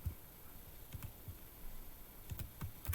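Someone types on a computer keyboard during a remote economics lesson. There are a few faint, scattered key clicks and small bursts of taps over quiet background hiss, with no speech.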